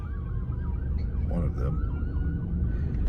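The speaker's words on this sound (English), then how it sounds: "I hear sirens." Emergency vehicle sirens wail outside, rising and falling in repeated sweeps at moderate distance over a low traffic rumble, with a brief voice speaking.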